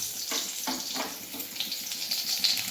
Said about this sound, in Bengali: এবার হচ্ছে পেঁপেগুলোকে ভেজে নেব